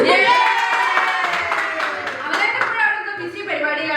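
A small group claps together at a boys' home cooking challenge after a chicken curry is finished, the applause close and busy and mixed with voices calling out.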